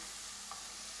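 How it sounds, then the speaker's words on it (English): Garlic, onion and tomatoes fry in a pan with a steady, even sizzle and crackle, close and constant, with a faint stir near the middle and no voices. "tomatoes is in there frying."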